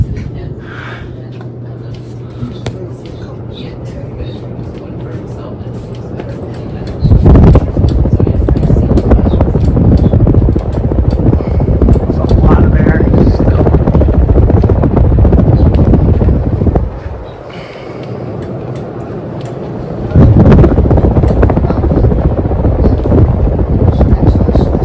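A 50-inch Gulf Coast Bombay ceiling fan runs on high with a loud, steady, airy whoosh close to the microphone. The sound surges up after a quieter start, dips briefly and then returns to full strength.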